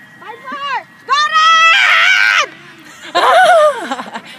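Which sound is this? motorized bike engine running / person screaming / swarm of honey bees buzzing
person screaming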